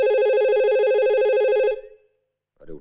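A telephone rings unanswered, a loud steady trilling electronic ring that cuts off after nearly two seconds, followed by a moment of silence and a brief voice.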